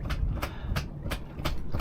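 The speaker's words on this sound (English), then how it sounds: "That's the sound of a tog flopping around on my boat because I already got one." Tautog caught from a piling spot flops on a boat deck, giving a quick, evenly spaced series of about five slapping thumps within two seconds, close and alone.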